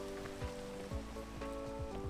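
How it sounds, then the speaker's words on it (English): Rain in a video game falls as a steady, soft patter with a constant hiss, joined by a sustained tonal hum and a few repeated low thumps. "Rain is a big factor in maneuvering through some of these parts."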